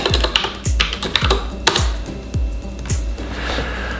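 Steady, close typing on a computer keyboard, a quick run of crisp key clicks with heavier thumps at intervals, and no voices.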